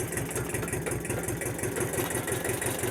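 Tractor engine idling with a tiller attached: a steady, rhythmic low chugging that stays even and close at moderate volume throughout, with no talking.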